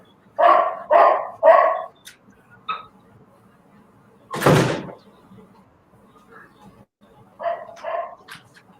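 A pet dog barks indoors in a home during an online webinar: three loud barks in a row, then a few fainter yips, a sharp door-like bang, and another pair of barks, with a voice talking in between.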